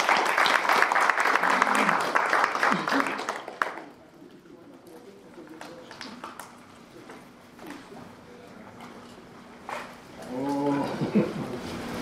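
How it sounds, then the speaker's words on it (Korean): An indoor audience claps loudly and densely for several seconds at an anniversary ceremony and awards event of Korea University alumni journalists, then the applause stops abruptly, leaving a quieter hall with scattered voices. "박수를 청해 주십시오."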